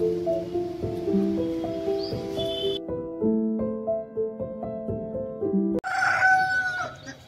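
Chickens and small chicks out in a sunny yard, with a rooster crowing and birds clucking near and fairly loud, mixed with rustling and a brief burst of bright chirping toward the end.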